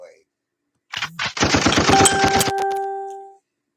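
A rapid burst of gunshot sound effects, a fast machine-gun-like volley of loud cracks with ringing metallic tones trailing off, standing alone without talk.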